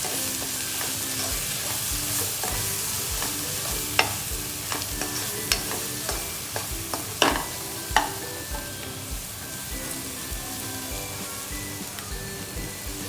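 Masala with salt and garam masala being stirred and sautéed in oil in a pan, a constant soft sizzle broken by repeated scraping and clacking strokes of a spoon against the pan.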